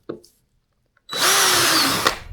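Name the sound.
power drill drilling a hole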